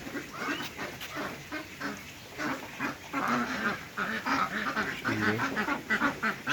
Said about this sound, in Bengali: নাম হচ্ছে ব্লু সুইডিস ব্লু সুইডিস